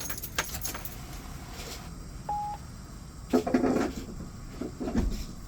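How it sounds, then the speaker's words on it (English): Ignition key turned to the auxiliary position in a bus, with a short jingle of keys, a brief electronic beep, and a few clicks and clunks close by. "I will turn the key to the auxiliary position"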